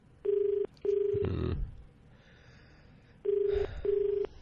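Two pairs of ringback tones from a telephone line calling a radio station sound with a pause between them, and a click or pickup noise follows the first pair.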